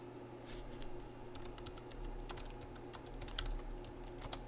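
Rapid keystrokes on a computer keyboard while typing in Notepad, an irregular run of crisp clicks over a steady low hum, with no talking.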